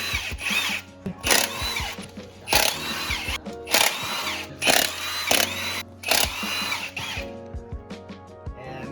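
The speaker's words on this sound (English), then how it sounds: "So we're taking off the flywheel bolts now." A power tool drives out the flywheel bolts on a 2014 Subaru WRX STI during a clutch swap, giving about seven loud, short bursts of whirring impact at a steady rhythm, close and alone without talk.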